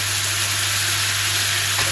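Soy sauce hitting a hot pan of spiced chicken with lemon and honey, a loud, dense, even sizzle held close and steady throughout, nothing else over it.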